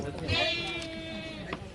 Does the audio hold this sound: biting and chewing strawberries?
no